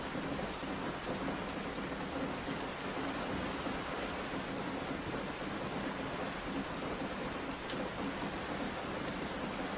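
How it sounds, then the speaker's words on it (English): Soft rain falls on forest leaves at night, a steady, even wash of patter with no voices. "the soft patter of raindrops on leaves"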